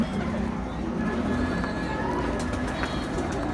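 Original mustached-breed pigeons cooing in a loft, a steady low murmur of coos with other bird sounds and a busy, crowded background throughout.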